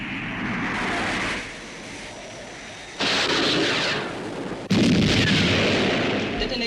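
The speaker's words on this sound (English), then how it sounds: "Commencing missile sequence. Firing" A missile launch from a military craft gives bursts of roaring, explosive rocket noise, loud and broad, with a sharp new blast midway and another louder one near the end.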